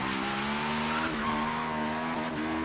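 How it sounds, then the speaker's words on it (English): A turbocharged Honda S2000 in Forza Horizon 3 slides on the e-brake, its tires squealing in a steady drawn-out screech over a constant droning engine tone, loud and close with no talk. "Hit that e-brake."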